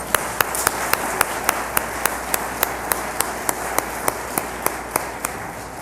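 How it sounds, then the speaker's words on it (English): Applause at a scholarship ceremony, a steady wash of clapping from the audience, with one sharp, evenly spaced clap or tap repeating prominently above it. "So let's give her a round of applause."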